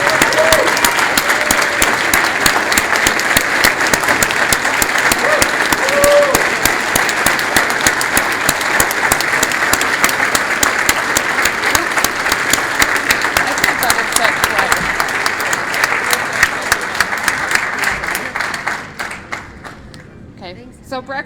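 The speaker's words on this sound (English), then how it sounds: "Sherry deserves a round of applause" A banquet audience gives a coach a loud, dense round of applause that holds steady for most of its length, then thins out into scattered claps before fading.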